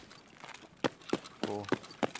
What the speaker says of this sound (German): Rechts neben uns habe ich irgendein paar Schritte gehört.